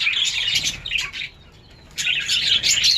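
Several birds chirp loudly and rapidly at a home, dense overlapping tweets in two bursts separated by a brief lull, close and bright with no talking.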